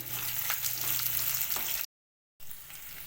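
Chopped onions fry in a pan for vegetable upma, a dense steady sizzle with a low hum that cuts out abruptly for about half a second, then resumes at the same level.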